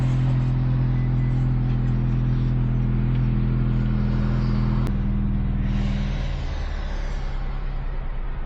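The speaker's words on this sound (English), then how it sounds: "So right now I have the car running, somewhat of a cold start." A 2017 Subaru Impreza Sport with a full muffler delete idles loudly on a cold start, a deep steady drone with strong low hum that drops and quiets noticeably midway, close and continuous with no voices.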